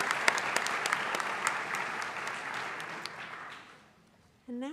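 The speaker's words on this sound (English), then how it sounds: "Can you please give them a round of applause?" An audience in a school assembly hall applauds to welcome sophomores seated in the balcony, a dense burst of clapping that fades over a few seconds before a short tonal sound at the end.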